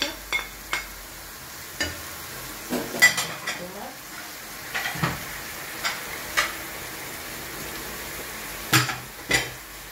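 A spoon stirs tomato in a sizzling pan while preparing baked fish, with repeated sharp clicks and scrapes against the metal spaced irregularly over a soft, steady frying hiss.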